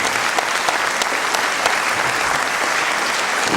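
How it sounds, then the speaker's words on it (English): Sustained, dense applause from an audience at a Caribbean stand-up comedy show, loud and even throughout with no talking over it. "how about a big round of applause for Miss Lou"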